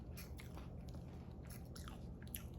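Lundberg Family Farms rice chips, thick and shaped like tortilla chips, get bitten and chewed up close, giving a steady run of quiet crisp crunches with no talking.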